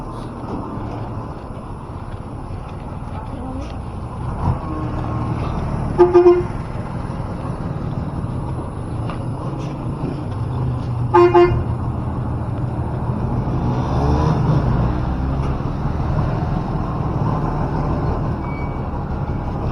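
A big truck reverses on a Philippine street at dawn amid steady traffic roar, with two short honks from a vehicle horn, one near the start and one a few seconds later.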